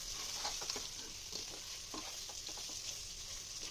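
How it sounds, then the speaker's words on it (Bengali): Hilsa fish gravy sizzling steadily in a pan while a spoon stirs it, with soft scraping strokes repeating through a constant close frying hiss and no one speaking. "ইলিশ মাছের যে গ্রেভিংটা ছিল ওটা দিয়ে ভালোভাবে নেড়ে নিব"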